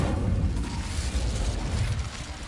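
Incendio fire spell cast in a video game, a loud rushing burst of flame with a booming, roaring body that holds steady before easing slightly.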